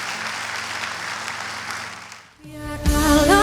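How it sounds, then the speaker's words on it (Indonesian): A church congregation at a Sunday service breaks into applause, a dense crowd clapping that dips briefly and then swells again as music rises underneath. "Beri tepuk tangan yang meriah buat Tuhan"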